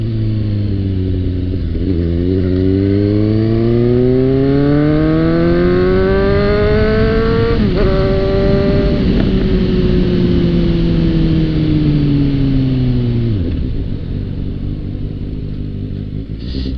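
Loud, steady engine drone from a Suzuki GSX motorcycle accelerating through a curve, the pitch climbing and then easing off with overlapping harmonic tones, heard close and continuous without talk.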